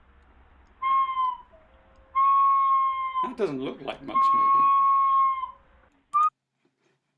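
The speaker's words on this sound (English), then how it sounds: "Here's an example of a gorilla controlling their breathing to play a whistle." A gorilla blows a whistle with controlled breaths, making a few clear, steady tones of about a second each with short pauses between them. A voice talks briefly between the whistles.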